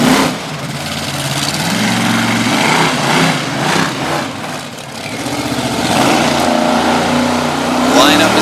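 A monster truck engine running on only seven cylinders roars loudly and continuously at a monster truck event in Little Valley, New York, the pitch dipping briefly midway before climbing again, with an announcer talking over it.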